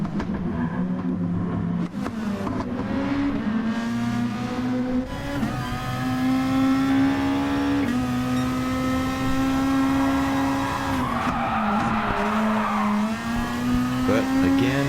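A race car in a racing video game brakes hard into a corner, its steady engine drone dropping in pitch with a burst of tire scrub, then climbing again as it accelerates away, loud and continuous throughout.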